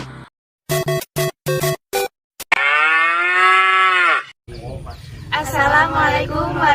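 Dairy cows at the Nongkosawit dairy farm give a long, loud moo, then more lowing cattle follow amid overlapping farm noise, after a few short bursts at the start.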